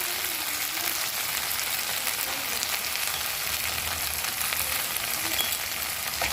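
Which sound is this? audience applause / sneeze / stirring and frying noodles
stirring and frying noodles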